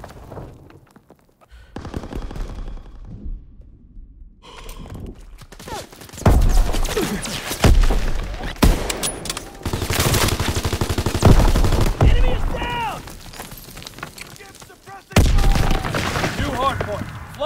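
Loud bursts of automatic gunfire and rapid gunshots in Call of Duty: WWII Hardpoint multiplayer, dense volleys starting and stopping over about seventeen seconds, with game announcer voice lines mixed in.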